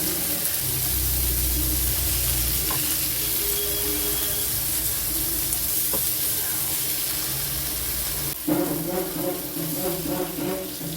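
Sankara fish sizzles steadily in a pan over a medium flame, a loud, continuous frying hiss, joined near the end by clattering stirring or turning sounds.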